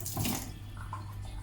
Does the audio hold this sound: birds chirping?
no